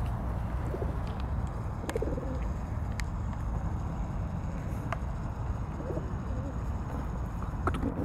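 Pigeons coo softly at an outdoor feeder stocked with nuts, low repeated calls over a constant noisy background with scattered light taps and clicks.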